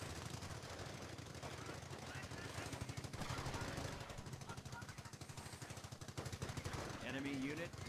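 Rapid bursts of machine gun fire in the Company of Heroes battle game, a loud rattling chatter running through the whole stretch over a dense background of battlefield noise.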